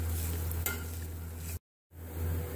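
Grated potato for hash browns cooks in oil in a pan with a continuous sizzle and a steady low hum, a brief stir partway through and a short break in the sound before it resumes.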